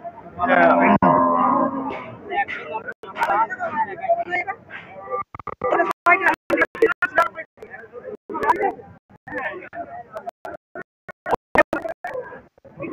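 Friesian and Australian-breed dairy cows and heifers at a crowded village cattle market, a low moo near the start, then busy crowd babble with sharp clatters and knocks, while someone talks nearby throughout.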